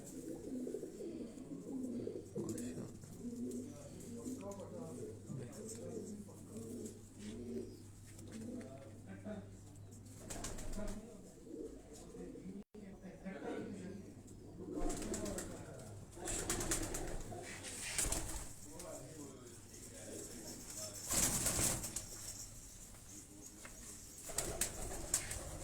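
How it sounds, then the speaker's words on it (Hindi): Local Quetta pigeons coo softly in a quiet loft, with occasional wing flaps, while people talk nearby. "ये हमारे लोकल यानी कोयटा के कबूतर हैं।"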